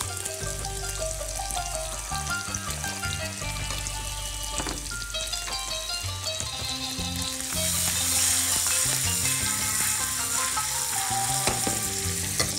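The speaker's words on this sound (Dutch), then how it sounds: "En ons vlees is krokant gebakken." Meat for hummus kawarma frying crisp in a pan gives a continuous, even sizzle and crackle. It runs throughout over a steady tonal background, and nobody speaks.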